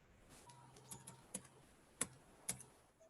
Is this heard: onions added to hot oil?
no